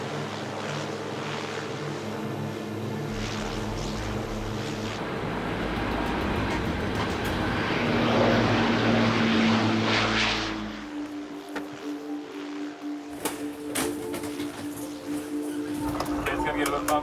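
Cabin of a Lifeflight air ambulance plane in flight, with a loud continuous engine and propeller drone and steady tonal hum throughout. A shifting mechanical whine is layered over it, and the drone lightens toward the end.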